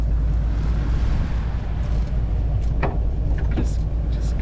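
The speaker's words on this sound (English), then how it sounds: "Just got a little bit of a white noise with that engine, but she's running good" A steady low sailboat engine drone with broadband hiss while motoring on a flat, calm sea, continuing evenly throughout with a few faint knocks.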